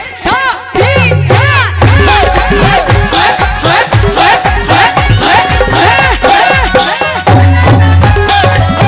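Dense crowd noise at a live devotional music event, a loud, continuous mass of voices with cheering, shouting and likely applause filling the whole stretch, up close.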